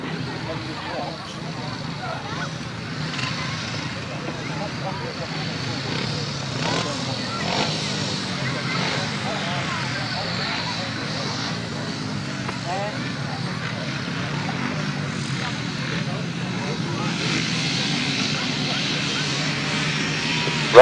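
Grasstrack racing motorcycles rev and race at a 2016 international meeting in Lincolnshire, a continuous engine roar building from far to louder under a public-address commentator.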